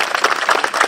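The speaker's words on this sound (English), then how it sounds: "Let's give it a round of applause." Crowd applauding at an outdoor Memorial Day ceremony in Montclair right after a scout troop leads the Pledge of Allegiance; a short burst of dense, steady clapping.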